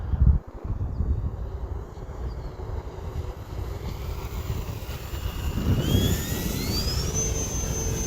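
A radio-controlled H-King Wargo Edge 540T model airplane drones overhead in a banking turn, its electric motor whine rising and sliding in pitch, fairly distant with wind and outdoor ambience.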